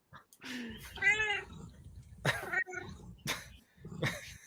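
A cat meows close by in two or three distinct calls, one long and wavering, separated by short quiet gaps, with faint background rustling.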